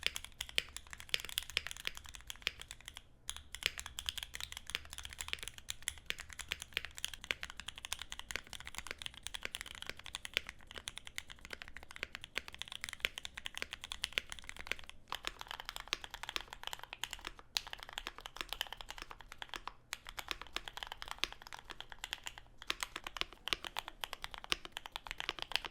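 A mechanical keyboard fitted with Gateron Vermilion Bird switches is typed on steadily for a long stretch, a dense, even patter of close, soft clacks with only a few brief pauses.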